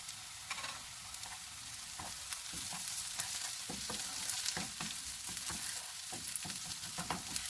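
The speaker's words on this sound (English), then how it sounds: "Then add in garlic ginger paste for a good flavor and stir in very well." Garlic ginger paste fries and sizzles in a pan while being stirred, giving a steady crackling hiss broken by frequent scraping stir strokes, close up, with no talking.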